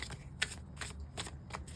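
Tarot cards shuffled by hand in a quiet room, a few soft, papery riffling bursts at an irregular pace over a low background hum, with no voices.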